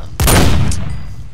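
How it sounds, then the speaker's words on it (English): One loud, booming 50 caliber gunshot in the Minecraft Flan's Mod video game: a sudden blast with a long fading tail and a faint mechanical click after it. "So with the 50 caliber, it's got some pretty big recoil, but it'll pretty much one-shot anything there is."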